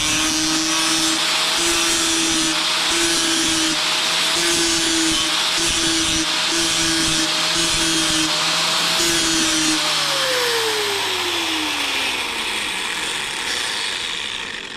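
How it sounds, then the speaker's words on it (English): An angle grinder works a steel tube offcut, a steady loud motor whine with harsh broadband grinding hiss running continuously for about ten seconds before the motor winds down and fades. "So the first thing people seem to do is grind that way."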